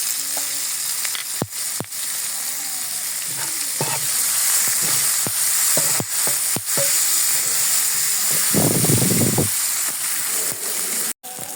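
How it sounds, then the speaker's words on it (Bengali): About three or four chopped onions fry in hot oil in a pan for a tomato chutney, making a steady close sizzle throughout with occasional stirring scrapes and clatters. "এখন দিয়ে দেবো আমি পেঁয়াজ কুচি, 3-4টে পেঁয়াজ কুচি রেখেছিলাম।"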